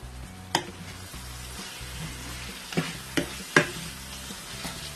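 Bitter gourd and chana dal with salt and tamarind get stirred in a sizzling pan, a steady frying hiss broken by several distinct spoon scrapes and taps against the metal.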